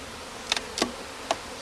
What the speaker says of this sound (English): there's bees all over the ground here